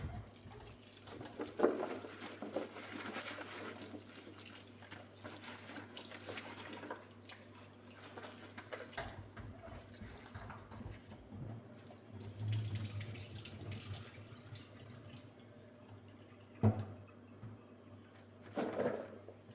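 Kitchen tap water runs into a sink while a pumpkin is rinsed, a steady close splashing rush that swells and thins as the stream hits the pumpkin, with a few knocks and no talk.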